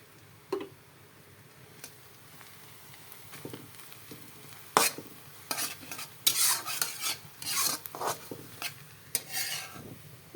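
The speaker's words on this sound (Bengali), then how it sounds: "কড়াইতে আমি এই যে পেঁয়াজ দিয়ে দিয়েছি" Quiet background sizzle of onions frying, joined by intermittent spatula scrapes and clinks against the pan, growing busier in the second half.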